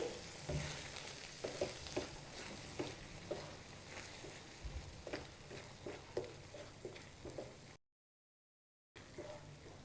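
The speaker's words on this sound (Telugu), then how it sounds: "బాగా కలుపుకోవాలి" Tempering stirred into a simmering ash gourd and chana dal curry, a steady close sizzle and bubbling with regular scraping stirs of a spoon against the pot, cut by a short gap of silence near the end.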